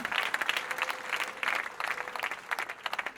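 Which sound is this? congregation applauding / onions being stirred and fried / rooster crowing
congregation applauding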